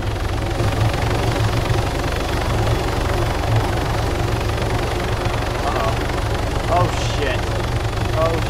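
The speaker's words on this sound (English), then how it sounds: "Get in the helicopter, start the engine." Helicopter engine running in Arma 3, a loud continuous rotor thump and engine drone throughout, with voices talking over it.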